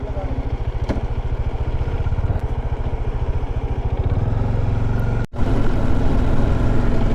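A motorcycle engine chugs steadily and loudly up a hill, with a brief drop in sound before it pulls strongly again.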